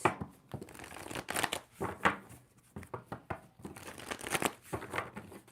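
Tarot cards being shuffled by hand, giving a run of close, papery riffling and crinkling bursts in uneven rhythm with no talking.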